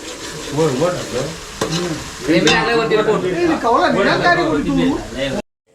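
Chopped onions fry for chicken curry at an outdoor party, stirred in a pan with a loud steady sizzle and scraping, while several people talk loudly over the cooking.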